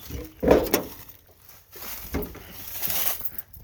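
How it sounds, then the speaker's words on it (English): Two clunky metal impacts from an old parts truck door swinging open and shut, the first near 0.5 s sharper and louder, the second around 2.2 s duller, with faint rustling between and no talk. "Door does not stay open."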